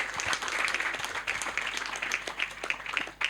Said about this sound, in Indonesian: tepuk tangan buat Kak Sani